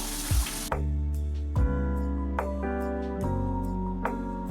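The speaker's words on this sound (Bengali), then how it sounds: "আমার ঝোলটা ফুটে উঠেছে, এখন আমি মাছগুলো দিয়ে দেবো" Rohu fish pieces slide one by one into bubbling mustard and poppy seed gravy, each landing with a soft splash and a short sizzle. Between them the pan keeps up a steady low simmer.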